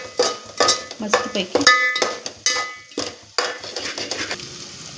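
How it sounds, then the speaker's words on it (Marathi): A spoon stirs and scrapes half a spoonful of garam masala in a hot pan for spicy Kolhapuri misal. Loud, repeated metallic scrapes and clinks sound over a steady sizzle, and a voice speaks briefly. "आता आपण थोडासा गरम मसाला टाकणार आहोत, अर्धा चम्मच। त्याला पण आपण परतून घेणार"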